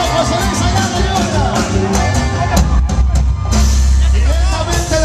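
A crowd at a live concert at the Grand Casino Coushatta cheers and claps, with whoops and shouts mixed under a voice announcing over the noise.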